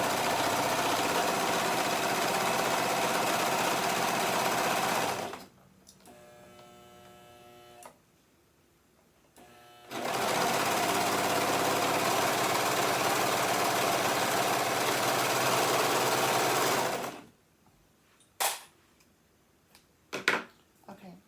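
Sewing machine running a zigzag stitch along fabric for an elastic skirt, two long bursts of steady mechanical whirring separated by quiet handling, then short clicks and taps at the end.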